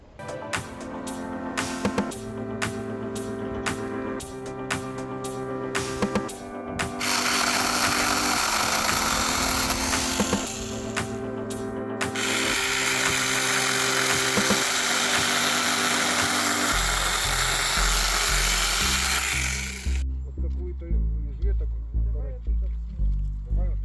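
A small powered saw cutting tree branches buzzes in bursts, pitch rising and falling as it cuts, then a sustained whine, ending with rhythmic chugging pulses.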